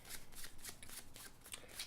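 A magician shuffles a deck of playing cards during a show: quick, crisp riffling bursts repeat in a steady rhythm, close and fairly quiet, with no talking.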